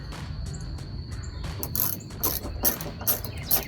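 Nut being loosened by hand off a spoiler stud on a 2015-2023 Mustang, with a socket catching it: a series of soft, close mechanical clicks and ratcheting ticks that grow a bit sharper and more frequent toward the end.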